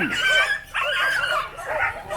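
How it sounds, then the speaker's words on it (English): Dogs scuffling at a street food stand in Vietnam, snarling, yelping and whimpering in loud, close bursts over roughly two seconds. "There's a dog fight. Dog fight. Big dog fight."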